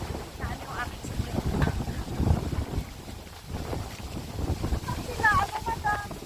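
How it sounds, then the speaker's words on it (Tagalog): Strong wind at a Canadian beach buffets the microphone in loud, uneven gusts, with a faint murmur of voices and a few distant bird cries mixed in. "Ang lakas ng hangin."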